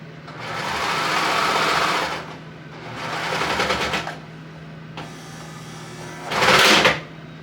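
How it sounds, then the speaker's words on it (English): A serger stitches through a thick quilted coat in three bursts of steady whirring, the last one short and louder, separated by brief pauses with no talking. "So apparently my serger is not happy with this thicker project"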